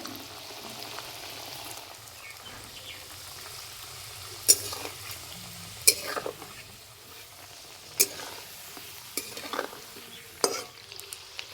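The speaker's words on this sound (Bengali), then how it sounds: "যেহেতু পিঠেগুলো ময়দা দিয়ে বানানো হয়েছে সেই জন্য ভাজতে বেশি সময় লাগে না" Flour pitha dumplings made with ripe palm fry in hot oil with a continuous soft sizzle, broken by a few sharp clinks and scrapes from stirring over about eleven seconds.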